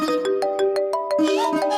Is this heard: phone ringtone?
yes